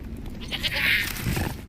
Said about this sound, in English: Poor little sheep.